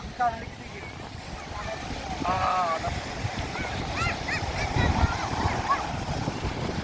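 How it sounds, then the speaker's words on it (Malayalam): Sea waves washing onto a beach make a steady, broad roar of surf with wind noise, building slightly toward the end, while several voices talk and call over it throughout. "കടൽ ആദ്യമായിട്ടാ കണ്ണമ്മ."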